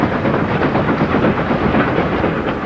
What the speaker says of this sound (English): a 3F could haul an entire freight train as long as it had a guard